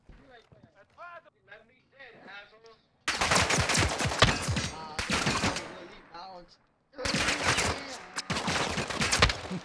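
Rapid bursts of automatic gunfire from a Call of Duty match erupt loud and dense after a few seconds of talking, in three long volleys separated by brief pauses, with voices continuing over and between them.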